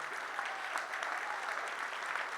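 A crowd at a hybrid live-streamed event applauds a band, a continuous wash of many hands clapping, moderately loud and unbroken.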